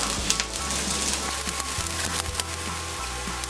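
Onions and cashew pieces fry in a pan, giving a steady soft sizzle with faint crackles and occasional stirring knocks, fairly quiet and without talk.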